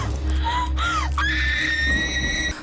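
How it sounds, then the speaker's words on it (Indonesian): A woman's scream of horror from inside a hut, a sustained shrill cry with rising wavering pitch over a dense, loud dramatic background rumble, ending abruptly after a couple of seconds. "Erlan mendengar suara teriakan Widi dari dalam gubuk"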